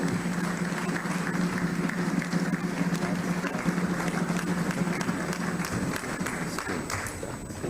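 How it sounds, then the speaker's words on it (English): Audience applause at the opening ceremony for the inauguration of a constitution review committee, a steady, sustained wash of clapping from a large crowd that continues for the full stretch. "Another resounding applause for the Deputy Speaker who chairs the House Committee on Constitution Review."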